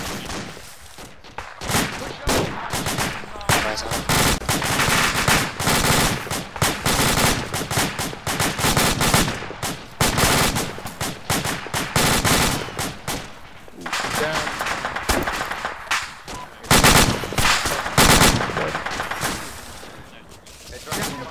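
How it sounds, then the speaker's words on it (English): Sustained firefight with rapid automatic bursts and overlapping single shots, loud and dense throughout, with radio voices talking intermittently over the gunfire. "I'm taking multiple shots from the southwest"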